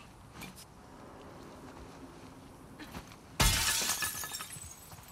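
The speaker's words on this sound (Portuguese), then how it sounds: "Quebrar o vidro aqui" A glass window shatters in The Last of Us Part 2, one sudden loud crash followed by a spray of falling shards, after a quiet stretch of faint movement.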